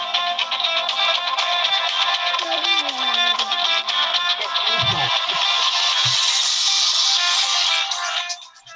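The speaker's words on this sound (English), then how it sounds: "it's David's ringtone" A musical phone ringtone plays loudly and continuously with layered tones through a meeting, ending abruptly near the close.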